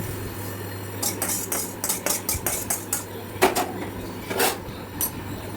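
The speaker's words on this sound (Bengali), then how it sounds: "এরপর আমরা এটা একটা পাত্রে ঢেলে নেব" Roasted semolina being scraped from a pan into a vessel, a run of metal utensils clinking and knocking against the cookware in short irregular bursts, with no talk.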